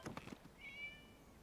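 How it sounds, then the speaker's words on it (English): A single drawn-out cat meow from Genshin Impact, clear and fairly close, rises after a few short soft sounds and then trails off into quiet game ambience. "It was just a cat."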